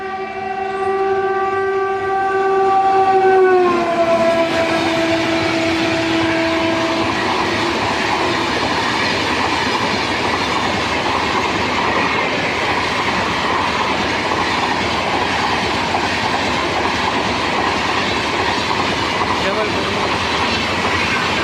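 A loud train horn blares with a falling pitch as a train passes close by through a station without stopping, followed by a heavy, steady rumble of rolling carriages.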